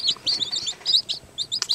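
Day-old chicks, a brooder of 21 including Araucana and Cuckoo Maran, peep in rapid, high, overlapping chirps, close and continuous with no talk.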